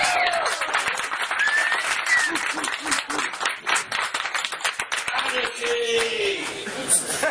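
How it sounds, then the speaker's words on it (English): Comedy club audience clapping and cheering with whoops, loud and close at first, then thinning out. A voice speaks over the clapping near the end. "please give a round of applause and cheer and whoop as I bring on myself"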